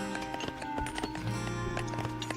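Horses gallop in the real-time strategy game 0 A.D., a busy clatter of hooves and in-game clicks and clanks over a steady musical drone during a tournament match.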